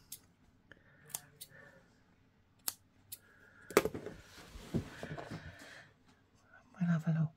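Scissors trimming paper pieces for a collage, a few crisp isolated snips and clicks at close range, then a louder cluster of rustling cuts, with soft talk in places.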